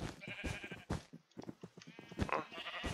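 Video game sheep bleat in a series of short, wavering cries, several overlapping calls close together, fairly quiet and with no talking.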